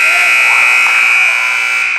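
A basketball game buzzer sounds to end the first half, a loud, steady electronic tone holding for about two seconds over faint arena noise.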